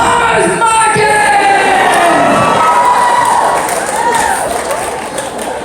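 Audience at a stand-up comedy show in a theatre cheering loudly, with high whoops and shouts over a continuous crowd roar that fades slightly toward the end.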